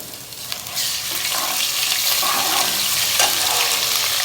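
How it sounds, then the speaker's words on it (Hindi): Garlic ginger paste hits browned onions in a hot pan, a quiet moment giving way to a sudden loud, close sizzle that keeps crackling steadily. "अब प्याज हमारा ब्राउन हो गया, इसमें लहसुन अदरक का पेस्ट डालेंगे"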